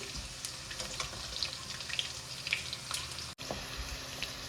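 Garlic frying in a pan for a methi chicken dish gives a steady, close sizzle with scattered crackles and a brief dropout near the end. No one speaks.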